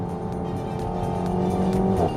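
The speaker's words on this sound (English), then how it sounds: "It makes that kind of noise during upshifts." A 2020 Renault Koleos 2.5L with a 6-speed dual-clutch transmission accelerates steadily with a constant engine drone and road noise from inside the cabin, and a faint pitch shift near the end marks an upshift.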